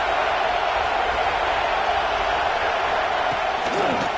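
Stadium crowd at a college football game between Texas A&M and Kansas roars in a steady, dense wash of cheering and noise that holds loud and unbroken throughout, with no single voice standing out.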